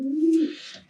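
A spooked racing pigeon gives a single close, low coo that swells and then fades out, alone and clear.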